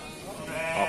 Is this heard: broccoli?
no